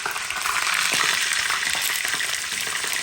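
Mussels stirred in a hot pan for a tomato mussel dish, giving a steady, loud crackling sizzle with faint scraping stirs throughout, no voices.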